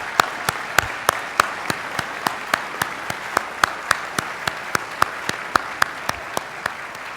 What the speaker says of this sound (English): I'd like to give these guys a round of applause